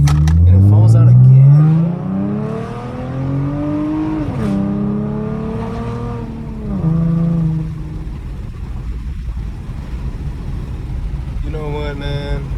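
A 2014 Ford Mustang V6 revs and shifts from inside the cabin, engine note rising in several pulls with dips between gears, loud and close, then settling to a steady drone as someone talks over it.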